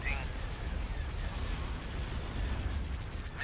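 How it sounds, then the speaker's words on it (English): Starship cannons fire in a Star Wars space strategy battle, a dense rumbling barrage of booms and crackling blasts at steady loudness, with a voice speaking over the din. "Cannons targeting."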